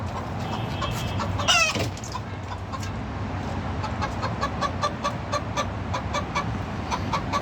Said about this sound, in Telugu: కోళ్ళు చూడండి బాగుండే, ఇంత ఈ నాటుకోళ్ళు.